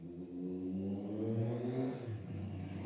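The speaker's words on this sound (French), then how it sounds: "Là, il y a une moto qui passe." A motorcycle passes close by outdoors, its engine note rising and falling in a steady, loud revving sweep that fades slightly toward the end, with no talking over it.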